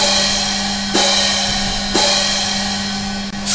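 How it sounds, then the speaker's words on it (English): A dinner bell in the horror video game Poppy Playtime Chapter 2 rings twice, about a second apart. Each strike is sharp and bright, then decays over a steady low electrical hum, with no voices. "Oh, that's the dinner bell."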